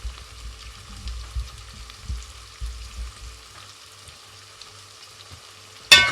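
Vegetables and saltfish fry in a pan for a Jamaican-style dish, a continuous quiet sizzle with low rumbling pulses, ending in a sudden louder burst of crackling.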